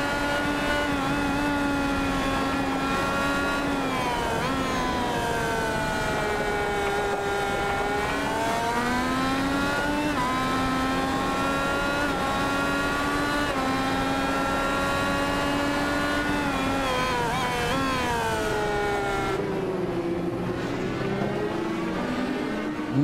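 An IndyCar engine in the iRacing sim heard on board during the final lap at Barber, a loud continuous high-pitched whine that rises and falls with gear changes and throttle, with no talking.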